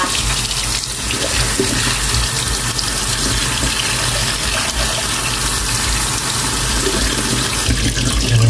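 Mushrooms being rinsed under a running kitchen tap, with a steady, loud, continuous stream of water splashing into the sink throughout and no talk.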